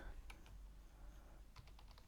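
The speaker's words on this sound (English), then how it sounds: "I'm gonna type this" Quick, light keystrokes on a computer keyboard, a short burst of typing heard close and faint over low background hum.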